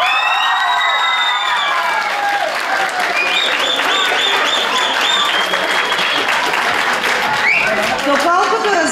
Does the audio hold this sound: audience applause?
yes